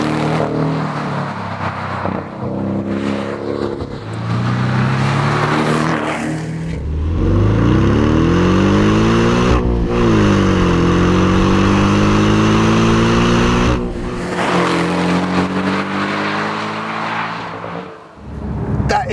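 A Porsche 718 Boxster S flat-four engine revs hard while driving, its loud growl rising and falling through repeated accelerations and gear changes, close and dominant throughout with no talk over it.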